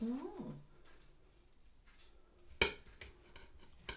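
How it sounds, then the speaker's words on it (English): A knife cuts through a large coffee and walnut cake on a plate, with a few soft scrapes and one sharp clink of metal on the plate, heard after a brief voice and under quiet room noise. "Can't, I'm too busy cutting the cake."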